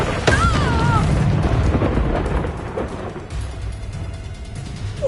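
A Bombarda spell explosion in Hogwarts Legacy: a loud, deep rumbling blast that decays over a few seconds, with a voice heard briefly.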